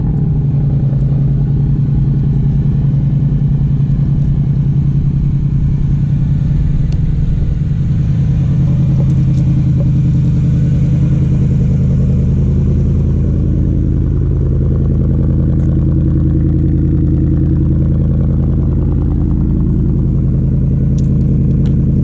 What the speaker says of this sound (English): First, let's do a cold start.